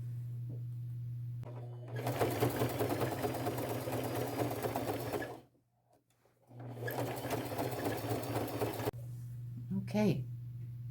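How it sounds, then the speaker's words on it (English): A sewing machine stitches patches onto a bucket hat in two long runs, steady and close with a constant motor hum, separated by a brief pause; a voice speaks near the end. "I'll sew the inside, and then I'll come back and sew the sides of all the patches"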